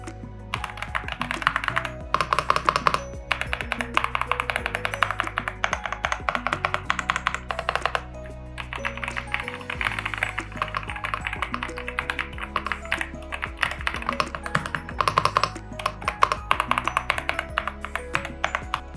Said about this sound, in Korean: 키보드 리뷰이니만큼 직접 타건해본 소감, 우선 소리부터 들려드리며 시작하겠습니다